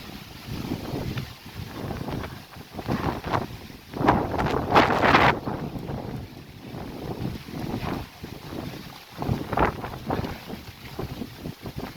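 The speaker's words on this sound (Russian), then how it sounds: "Совсем сумасшедший ветер настал, буря." Strong storm wind gusts outdoors in a park in Tashkent during rain. Loud buffeting roars against the microphone come in uneven surges, peaking sharply partway through, then ease and return.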